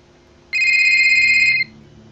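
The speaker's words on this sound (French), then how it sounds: "son téléphone portable a sonné" A mobile phone rings once in a Roblox horror story, a single loud, bright electronic tone lasting about a second over quiet background.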